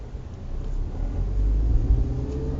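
A manual-transmission car's engine rumbles steadily at close range while the car pulls away, its low drone rising slightly as it is given gas.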